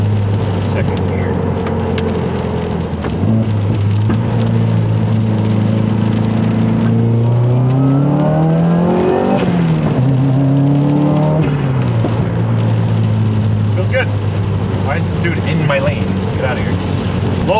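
Subaru WRX engine pulling hard in second gear, a loud close drone whose pitch climbs steadily then drops at a shift and settles again, with people talking over it inside the car.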